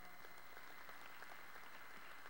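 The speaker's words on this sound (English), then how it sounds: "I noticed some folks clapped," Audience at a town-hall style event clapping, a steady patter of many hands held at an even, distant level for a couple of seconds.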